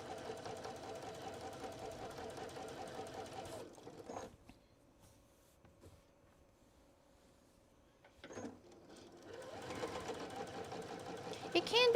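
A sewing machine stitches a tote bag with a woven linen lining, running steadily, pausing for several seconds with faint clicks, then whirring again for back stitching, close and fairly quiet.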